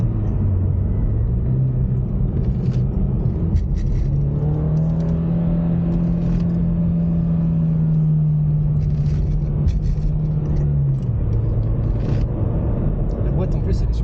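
Engine and exhaust of a Toyota GR86 accelerating on the road: a deep, loud droning growl that rises in pitch as the revs climb, holds, then drops back, with voices talking inside the car over it.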